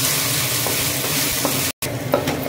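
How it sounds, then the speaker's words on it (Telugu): Ginger garlic paste sizzles and fries in a pan while being stirred, a continuous crackling hiss with occasional soft scrapes, steady and close, with a brief dropout near the end. "అల్లం వెల్లుల్లి పేస్ట్ కూడా కొంచెం బాగా ఫ్రై చేసుకోండి."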